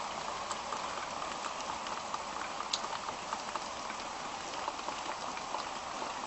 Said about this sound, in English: And get some of the rain.